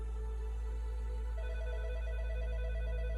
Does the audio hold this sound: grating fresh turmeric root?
no